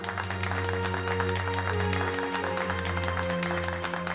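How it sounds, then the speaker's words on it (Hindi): Steady, continuous applause from an audience welcoming CID officers, including SP Pradyuman, at a stage event, sounding over sustained music. "तो कीजिए जोरदार तालियों से इनका स्वागत।"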